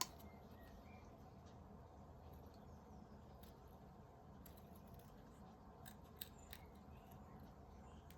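Scissors snip out a paper card piece in faint, irregular clicks and cuts over a quiet background hiss.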